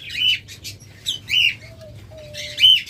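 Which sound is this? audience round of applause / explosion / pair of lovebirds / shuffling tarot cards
pair of lovebirds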